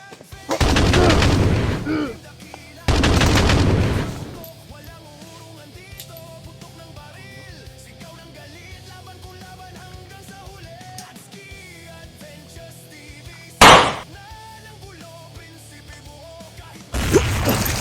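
Sniper gunfire in a video game: two sustained loud bursts early on, then a sharp single crack near the end and another burst at the close, with game sounds and voices running underneath.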